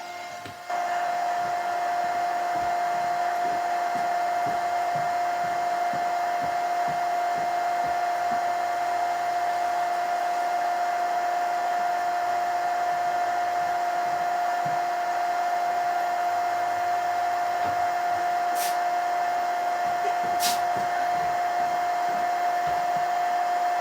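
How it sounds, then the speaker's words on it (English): A heat gun dries a handmade winter horse craft piece with a loud, steady, close-up blowing roar that holds unbroken for over twenty seconds, broken only by two faint, brief clicks near the end. "So I will start drying this here with the heat gun"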